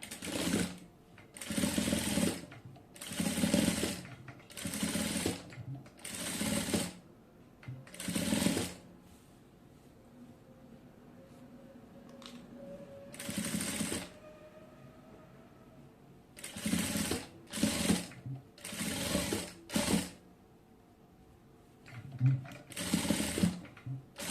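Sewing machine stitching a salwar joint in repeated short bursts of rapid whirring, about a dozen runs separated by brief pauses, fairly close and with no talk.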